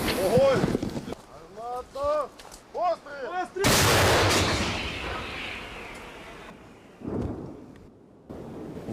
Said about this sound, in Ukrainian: розрахунок цієї Д-30 мерщій і без роздумів наводить свою гармату на ціль